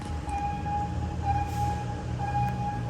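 A train rolls past a railway level crossing on Si Ayutthaya Road in Bangkok, a steady low rumble of wheels and carriages with a sustained warning tone ringing over it.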